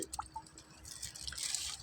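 Water pours out of an irrigation canal gate into a field channel, a steady soft trickle with dripping and splashing, fairly quiet and close, with no talking.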